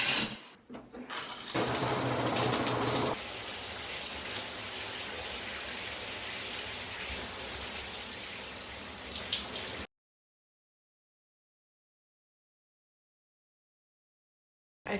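Water from a shower runs in a home bathroom, a steady hiss of spray that shifts as the stream changes, cutting off abruptly before a stretch of silence.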